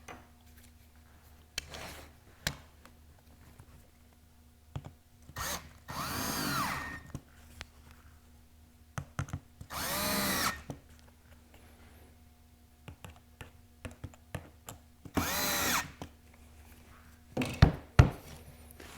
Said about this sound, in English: I'm going to put pressure on this piece, drive those screws.